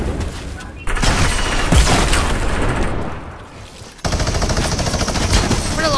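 Rapid minigun fire in the Fortnite video game, a dense continuous burst of shots running almost the whole time with a brief dip midway, alongside game effects and voices talking.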